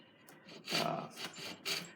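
A few slow rasping strokes of a hand saw cutting dovetails in wood, close and fairly quiet, each stroke a breathy scrape.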